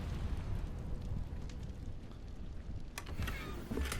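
Incendio fire spell in Hogwarts Legacy burning at pages, a low roiling crackle of flame that runs throughout, with a couple of sharp bright bursts near the end.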